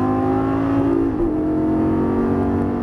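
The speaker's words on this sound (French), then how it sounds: "accélère progressivement, reste à gauche et gaz à fond" A car on a track accelerates at full throttle, its engine a loud, steady, droning roar heard from inside the cabin, with a brief dip in pitch midway as the revs shift, and no voices.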